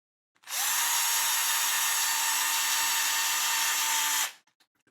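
A power drill with its clutch set low drives small 2 mm screws into soft parts during a bearing-kit build, one steady close whir lasting about four seconds before stopping, then a few faint clicks.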